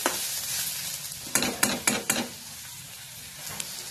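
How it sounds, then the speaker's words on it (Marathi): Onion and tomato roasting in a pan for a paneer tikka paste, a steady soft sizzle with several sharp stirring scrapes clustered in the middle, close and alone without talk. "जेवढा कांदा आणि टोमॅटो चांगला भाजेल तितकी पेस्ट चांगली होते आणि चविष्ट लागते"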